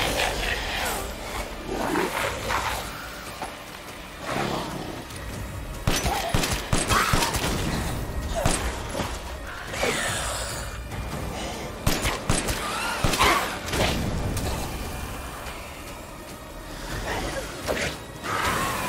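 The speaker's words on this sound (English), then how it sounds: "Who's shooting me?" Gunfire in Resident Evil Village, with repeated bursts of shots and impacts crowding a dense, loud game soundscape throughout, punctuated by heavier booms and creature-like roars.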